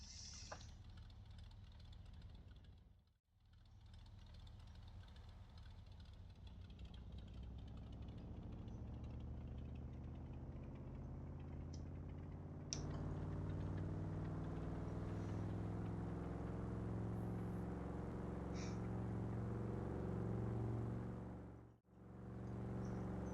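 An old barn-find tractor engine idles steadily at a low, even chug, close and moderately loud, with a couple of brief dips and a slight rise in pitch midway, no talking.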